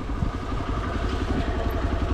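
Off-road motorcycles on a dirt track rumble steadily at close range, a dense, continuous engine drone with a choppy low-end pulse and no speech over it.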